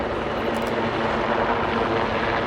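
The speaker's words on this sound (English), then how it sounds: "The H-64E is an attack helicopter by trade." Boeing AH-64E Apache attack helicopter manoeuvring at low speed in front of the crowd at an RAF Cosford air show, a loud, steady rotor and turbine roar filling the whole stretch without a break.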